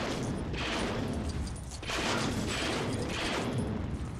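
Dense, continuous blaster gunfire from the LEGO Star Wars: The Skywalker Saga video game on PS5, loud and close, with rapid overlapping shots in surging bursts and no voices over it.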